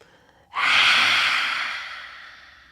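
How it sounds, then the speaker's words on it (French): A single forceful open-mouthed exhalation in lion's breath yoga, a breathy roaring whoosh that starts abruptly after a short quiet pause and fades gradually, close and loud. "La respiration du lion,"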